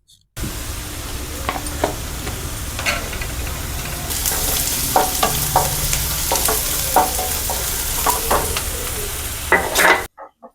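Onions fry and sizzle steadily in a pan with turmeric for masala chicken fry, a continuous close hiss with occasional scrapes and clinks of stirring.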